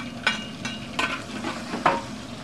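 Ginger sizzles in a hot pan for Mandarin sweet and sour fish, a steady close frying hiss broken by several brief scraping stirs of a utensil.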